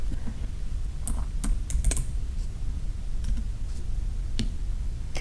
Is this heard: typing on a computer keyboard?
yes